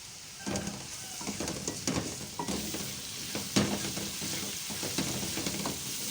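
Ginger garlic paste and spices fry in a pan for aloo methi with a close, continuous sizzle. Scraping stirs and small pops break through at a low to moderate level.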